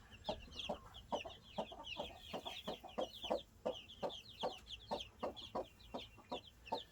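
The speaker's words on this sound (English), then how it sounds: "Maybe the mama hen will take him out." A mother hen with her nine newly hatched chicks makes a soft, steady series of low clucks, while high chick peeps chirp repeatedly above them, faint and close, with no talking.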